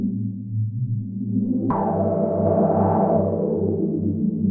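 Synthesizer playing a sustained chord progression, one held chord cutting sharply to the next brighter chord that swells and then settles, clean and alone with no voices.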